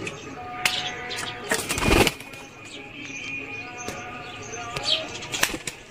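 A burst of a pigeon's wing flapping around the two-second mark, with soft bird chirps and faint background noise scattered through the rest.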